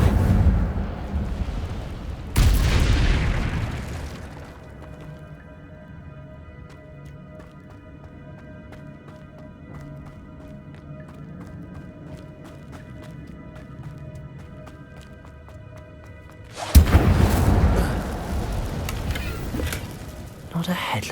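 Incendio fire spell cast in Hogwarts Legacy: two loud, roaring fiery bursts several seconds apart, separated by a long stretch of steady, humming ambience.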